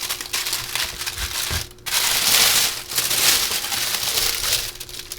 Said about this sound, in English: Wrapped in a kind of a waxy type paper.